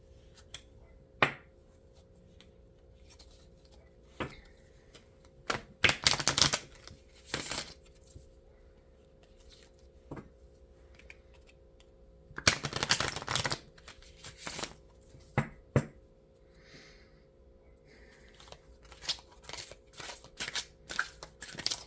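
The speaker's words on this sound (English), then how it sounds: "we're going to pull one card from the Divine Feather" Oracle cards from the Divine Feather deck are shuffled and drawn in quiet, intermittent bursts of riffling and sliding, with a few louder flurries separated by near silence.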